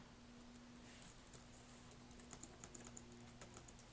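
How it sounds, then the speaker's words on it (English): Someone types on the rubber dome keyboard of a Lenovo Ideapad 3 laptop, a soft, steady patter of muted key clicks over a low background hum, close but quiet. "it's very much a regular rubber dome keyboard"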